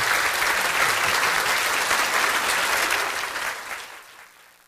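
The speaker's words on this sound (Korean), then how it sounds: "이 시간 나오실 때 모두 기립하셔서 뜨거운 박수로 맞아주시기 바랍니다." A standing church congregation applauds warmly to welcome a guest preacher to the pulpit, producing dense, loud, continuous clapping that holds steady and then tapers off and fades out near the end.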